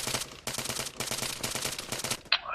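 Aircraft strafing run in the military shooter Arma, heard as rapid bursts of heavy automatic gunfire in several long volleys separated by brief gaps, loud and close, ending with a sharp impact.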